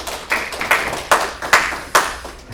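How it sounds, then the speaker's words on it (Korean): A church congregation at a New Year thanksgiving Sunday service claps in praise. Sharp, separate claps sound at an irregular pace, about five or six strong hits with softer taps between them, fairly close and with no talking. "우리 찬양을 기뻐 받아 주신 우리 하나님께 박수로 영광"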